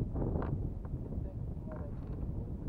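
Strong wind buffets the microphone out on the Tietê river during a kayak fishing trip, a steady low roar running throughout with people talking faintly over it.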